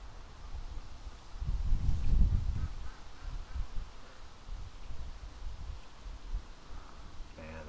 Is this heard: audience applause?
no